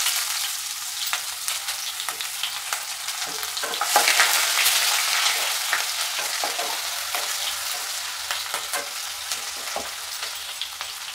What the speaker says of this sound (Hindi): तापरे आम कटा प्याज पकेबा।